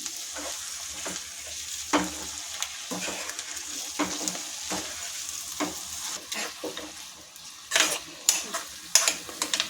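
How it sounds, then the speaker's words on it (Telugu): Gongura (sorrel leaf) curry being stirred in a pan on the stove, a spoon scraping and knocking in repeated strokes over a steady low sizzle of frying, with sharper clanks near the end. "గోంగూరను వేసుకొని కలిపెట్టుకోవాలండి"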